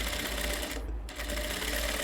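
A sewing machine runs steadily, stitching the collar of a kurti coat, with a brief pause near the middle before the even mechanical whir resumes; no one speaks.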